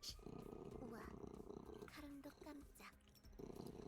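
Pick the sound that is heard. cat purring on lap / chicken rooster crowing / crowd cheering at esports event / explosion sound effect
cat purring on lap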